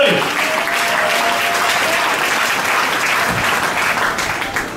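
A church congregation breaks into loud, sustained applause, a dense wall of clapping that holds steady for several seconds and only starts to thin toward the end.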